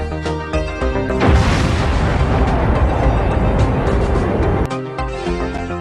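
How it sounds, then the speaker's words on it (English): A huge rumbling explosion stands in for the Big Bang, bursting in after a few tonal notes. It roars as a dense, loud wall of noise for about three and a half seconds, then gives way to the tones again. "This great explosion that marked the beginning of the universe was named the Big Bang"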